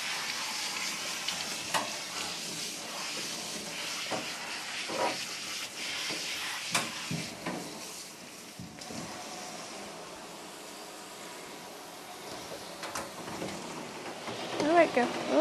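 Spray of water rinsing a Border Collie during a grooming session, a steady broadband hiss running throughout with small splashing variations, close and fairly loud.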